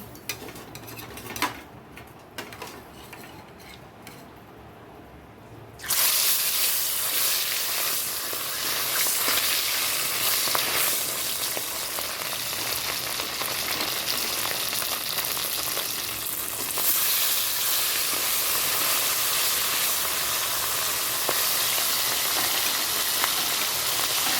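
Fish dropped into hot salted oil in a wok sets off a loud, steady sizzle that jumps up after a quieter start and then keeps frying continuously, with no talking.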